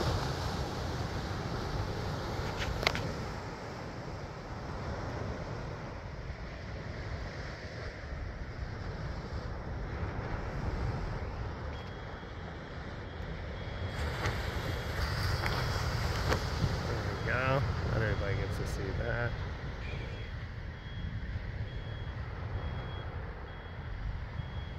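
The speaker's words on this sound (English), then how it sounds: "the wave's gonna break right on the beach on beach one" Ocean waves break on the beach at Holgate at sunrise, a steady wash of surf throughout, joined midway by a faint, intermittent vehicle reversing beep.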